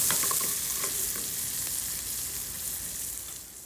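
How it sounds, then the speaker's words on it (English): Creamer potatoes, seasoned with kosher salt and white pepper, saute in a pan with a steady close sizzle and occasional light scraping as they are turned, with no talking. "we're gonna let those saute a little bit"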